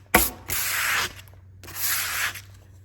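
Sandpaper is rubbed hard over a wooden deck hatch from a Cheoy Lee boat, two long close scraping strokes with a short pause between them.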